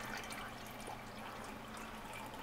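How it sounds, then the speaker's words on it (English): Sixteen ounces of water is poured into a Stanley cook set pot for a camp stove meal, making a steady trickling splash that carries on evenly and close by. "16 ounces of water. I'm going to pour it in here."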